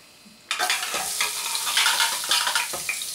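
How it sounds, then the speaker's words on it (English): Rinsed and dried 1960s-style French fries lowered in a fry basket into hot oil, a quiet moment broken by a sudden loud, bubbling sizzle that keeps roaring with crackles up close. "And now we're going to put them in the oil."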